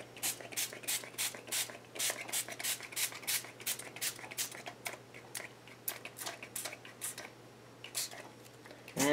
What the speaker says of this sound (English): I'm just going to go in here and spray those pieces just randomly.